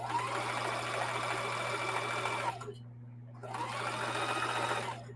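Sewing machine running a zigzag stitch across a thick seam on a camo tote bag: a loud, steady rapid whir that stops for about a second midway, then resumes, with a constant low motor hum throughout.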